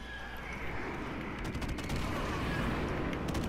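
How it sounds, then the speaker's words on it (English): Airstrike explosions and gunfire boom in Call of Duty: Modern Warfare Remastered, a dense, continuous rumble of blasts with scattered sharper cracks, loud and without pause, and no voices. "I just called down an airstrike"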